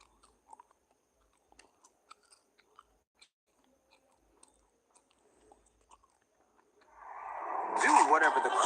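Close, crisp chewing of KFC popcorn chicken, a run of sharp, sparse crunches and bites in quiet surroundings, followed by a loud burst of noise near the end.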